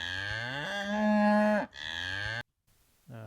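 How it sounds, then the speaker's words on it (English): A cow moos loudly and close in two long, drawn-out calls, the first rising and swelling before breaking off, followed by a short silence and the start of another low moo. "So that could be a useful cow moo"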